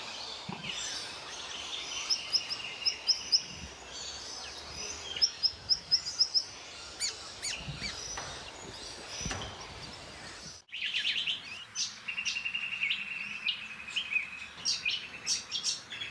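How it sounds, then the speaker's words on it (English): A small honeyeater with a black cap, white throat and white band behind the eye calls in forest, giving repeated high, thin chirps in short bursts over a constant bed of other birdsong and insect hiss, with a brief break partway through. "Small honeyeater with black cap, white throat and a white band behind the eye."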